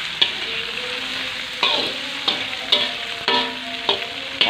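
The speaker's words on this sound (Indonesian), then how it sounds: "Oseng-oseng. Terus kita tambahkan tempe yang udah digoreng tadi ya." Fried tempe is stir-fried in a sizzling pan, a steady close sizzle broken by regular scraping stirs of the spatula about every half second to second.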